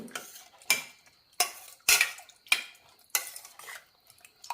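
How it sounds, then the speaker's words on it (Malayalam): Dal with salt and half a teaspoon of coconut oil being mixed with a spoon in a metal pot, giving six sharp scraping clinks at a steady rhythm, close and fairly loud, with no talking. "ആവശ്യത്തിന് ഉപ്പിടാം അര ടീസ്പൂൺ വെളിച്ചെണ്ണ നന്നായി ഒന്ന് മിക്സ് ചെയ്തെടുക്കാം"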